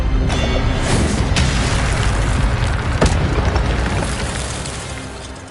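A fiery Incendio spell from Hogwarts Legacy on PS5 bursts out as a loud, dense whoosh and rumble, with a sharp crackling pop near the middle before the roar slowly fades.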